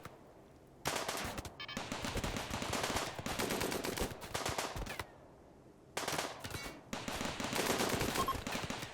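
Defensive turrets in RimWorld defending an ice sheet base against tribal raiders, firing in several sustained rapid bursts separated by brief quiet gaps, loud and close.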